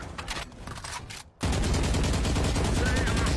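Video-game gunfire sounds in loud, rapid bursts, with a short drop to near silence before a dense, sustained barrage takes over.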